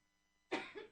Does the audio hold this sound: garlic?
no